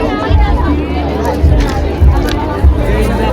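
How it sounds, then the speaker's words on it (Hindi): A dense crowd packs the entry of a Navratri garba event, with steady babble and shuffling around a person speaking close by. "बहुत भीड़ है भाई, बहुत भीड़। आपकी उम्मीद से ज़्यादा भीड़ है।"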